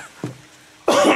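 A man in a radio studio gives a short throat-clearing cough, then a louder, harsher cough follows after a brief pause. The sounds are close and clear, with no talking.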